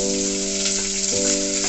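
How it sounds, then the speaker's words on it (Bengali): Chopped onions hiss and sizzle in hot oil with fried spices for chicken biryani, a steady close frying sound with a faint steady hum beneath and no talking. "এবার আমি এর মধ্যে কেটে রাখা পেঁয়াজটা দিয়ে দিলাম"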